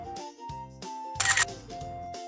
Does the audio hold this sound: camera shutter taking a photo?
yes